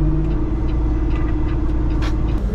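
A semi truck's diesel engine idling at a raised idle, a steady close low rumble with a constant hum holding throughout and no talk.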